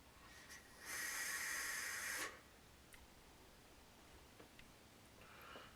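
A single loud, breathy airflow hiss lasting over a second as someone draws on an Indulgence MT-RTA vape tank, close up, followed by quiet faint rustles and no voices.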